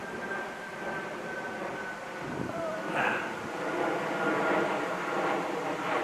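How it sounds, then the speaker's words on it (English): Airplane passing over a field near a road, a faint steady drone with a rising whoosh mid-clip, heard as a low background rumble across the whole stretch. "you can probably hear the plane too."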